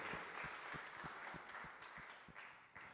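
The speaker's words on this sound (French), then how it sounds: "Let's give the Lord a clap" A church congregation claps in praise during a bilingual service, a dense, steady patter of applause at medium distance that runs unbroken for the whole stretch with no talk over it.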